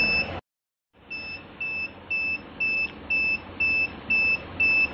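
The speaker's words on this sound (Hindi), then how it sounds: "ये बजर की आवाज़ आ रही है आपको" A home UPS sounds its low-battery buzzer, a rapid series of about nine evenly spaced shrill electronic beeps after a brief silence, loud and close over a faint background hum.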